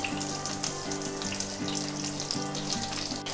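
Curry leaves go into hot oil where peanuts have just been roasted, for Maharashtrian kande pohe. A steady, close sizzling hiss runs throughout, with soft repeating tonal notes underneath.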